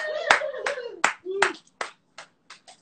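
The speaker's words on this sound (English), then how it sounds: "one more time. Round of applause." A few scattered hand claps from a small group at a casual live chat, sparse and uneven, fading out into isolated single claps.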